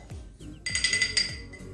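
Cool water is moved into a glass while the glass clinks sharply several times, bright ringing taps spaced through a short, close-up stretch.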